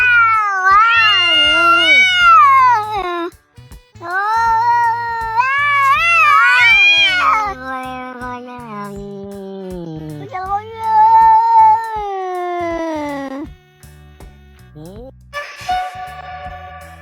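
Cats meowing and caterwauling in long, sliding, pitch-bending calls, loud and close, strung together over several seconds with brief pauses between the outbursts.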